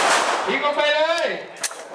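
A police cadet firing a pistol on a range, a loud crack at the start and a fainter one near the end, with a voice speaking in between.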